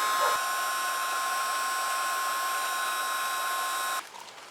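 A heat gun or hair dryer blows steadily on stiff rubber, a constant whirring drone held at even loudness for about four seconds before it cuts off abruptly, leaving a faint residual hiss.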